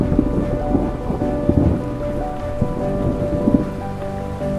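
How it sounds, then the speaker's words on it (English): A ferocious thunderstorm with heavy rain pouring in a constant hiss, while low rolling thunder rumbles and sharp crackling strikes break through at intervals, no voices. "And ferocious thunderstorms."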